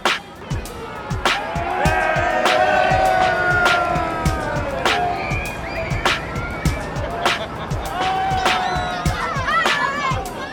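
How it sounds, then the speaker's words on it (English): Crowds lining the route of the Up Helly Aa daylight procession in Shetland, a steady outdoor hubbub of chatter and cheering with repeated sharp clicks and knocks, loud and continuous throughout. "the daylight procession begins, with excited crowds lining the route"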